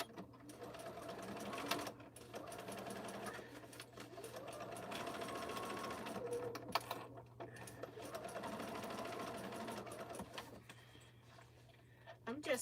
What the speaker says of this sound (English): I'm just stitching like 1/8 of an inch from the edge to close it